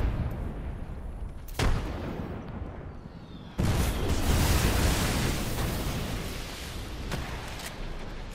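A frag grenade detonates in a first-person shooter game, one heavy booming blast bursting in after an earlier sharp shot, its rumble lingering loudly as distant gunfire continues.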